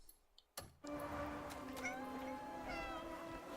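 Cat meowing in a video game, one drawn-out, fairly loud meow that holds steady after a brief click and short silence.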